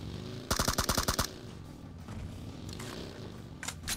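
Gunfire in the shooting game PUBG Mobile: a sharp, loud burst of rapid automatic shots, then quieter distant shots and a final short burst near the end, with no talk.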